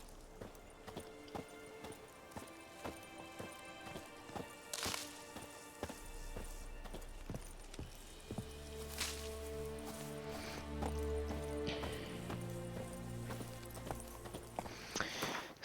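Roach, the horse in The Witcher 3 video game, clip-clops steadily across the ground, moving from a trot into a quicker gallop, with occasional whip-like swishes and game music playing softly beneath.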